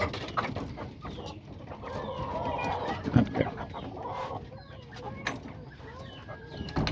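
Chickens and roosters at a fancy poultry sale cluck and squawk in a dense, overlapping chorus nearby, with someone talking steadily over the flock.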